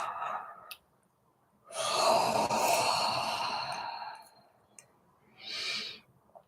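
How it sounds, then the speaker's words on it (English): A big, audible human yawn during a stress-release exercise: a long breathy, sighing exhale swelling up for about two seconds, then trailing off, with a shorter breathy release after a pause. Close and fairly quiet. "I'll invite you to join me in a big yawn"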